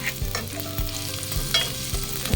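Garlic frying and being stirred in a pan while cooking ginataang suso (snails in coconut milk), a steady close sizzle with regular scraping stir strokes about every half second.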